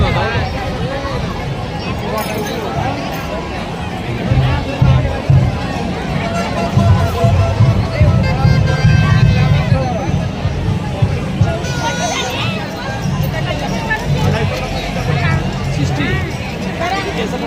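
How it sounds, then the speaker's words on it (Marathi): Dense crowd at a large Hanuman Jayanti festival in Thane, a loud, continuous babble of many voices with shuffling movement, and someone talking over it close by. "बघितलं किती गर्दी आहे उत्सवामध्ये आजची."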